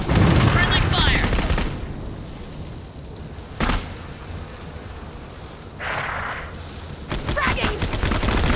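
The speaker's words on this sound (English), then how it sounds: "Friendly fire." Gunfire in the video game Clive Barker's Jericho, loud bursts of rapid automatic fire at the start and end with a sharp blast in the middle and quieter stretches between, with game voices speaking.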